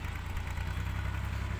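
A tractor engine runs steadily, a constant low rumbling drone close by and with no talk over it.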